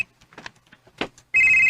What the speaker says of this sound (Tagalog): Uy, si Jinky magkaning nanawag